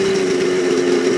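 OS 91 HZ engine in a Vibe 50 90 model helicopter conversion running at full throttle, a steady, loud nitro drone with a strong constant tone, close and continuous with no talking.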